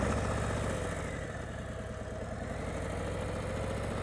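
Motorcycle engine held at a low, steady idle-like rumble during slow-speed clutch and throttle control practice, continuous and fairly close without distinct revving.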